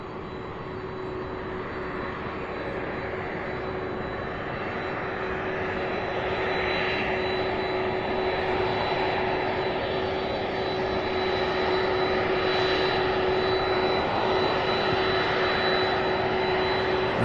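A Boeing 767 jet at SDF airport roars steadily in the distance, a broad continuous engine rumble with a sustained whine that grows slightly louder over the stretch, with no talk.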